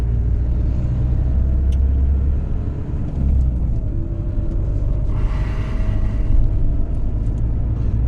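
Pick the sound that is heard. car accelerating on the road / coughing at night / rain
car accelerating on the road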